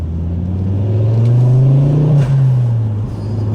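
A Ford Focus RS Mk2 with its five-cylinder engine revving loud and close, the throaty note climbing and holding for a couple of seconds before easing back down.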